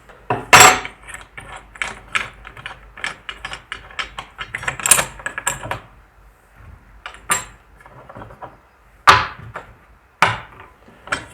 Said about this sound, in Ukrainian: за ходом годинкової стрілки маємо відкрутити трішки з зусиллям, відкручуємо гайку нашу.